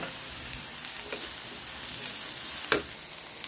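String beans frying in a pan with black pepper, a steady close sizzle running throughout with a few brief clatters of stirring.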